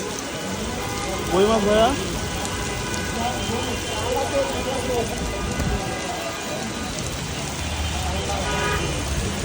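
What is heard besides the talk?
torrential rain with hail in Dhaka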